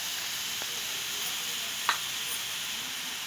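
Chopped tomatoes with turmeric powder and salt sizzle and fry in a pan for a drumstick leaf and potato curry, with a steady close hiss and one brief clink near the middle.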